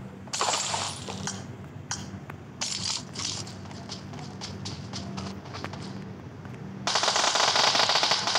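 Rapid bursts of gunfire ring out in PUBG Mobile, sharp repeated shots scattered through the clip with a loud, dense stretch of firing near the end, heard over a steady game background hum.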